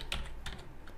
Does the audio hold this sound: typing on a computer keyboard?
yes